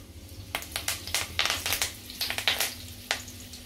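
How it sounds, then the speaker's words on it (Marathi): Mustard seeds, cumin and curry leaves crackle in hot oil as a tempering for soya chunks masala, giving a close, irregular run of sharp pops and spits over a low steady hum, with no talking. "फोडणी चांगली तडतडली की आपण कांदा घालायचा आहे।"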